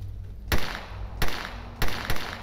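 Gunshots in a first-person shooter game played across two joined monitors ring out as four or five loud single bursts at uneven intervals over a steady background hum, no talking.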